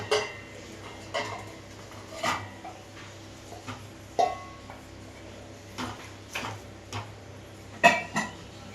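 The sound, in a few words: stirring rice and moong dal into tempering in pot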